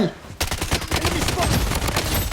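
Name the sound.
Uzi gunfire in video game Blood Strike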